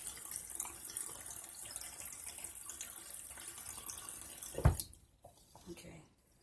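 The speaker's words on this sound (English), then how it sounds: "you don't let water run because you have to pay the water bill" Water running from a household tap, a soft steady hiss and trickle that continues for several seconds, then stops abruptly with a brief clunk as the tap is shut, leaving near silence.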